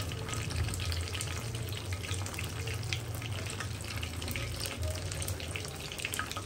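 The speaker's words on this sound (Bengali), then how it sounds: "একটু ধৈর্য নিয়ে কম হিট দিয়ে এটা ভেজে নেবেন" Puffed-rice pitha fries in hot oil over low heat, a steady, dense sizzle and crackle that holds evenly throughout, close up and without voices.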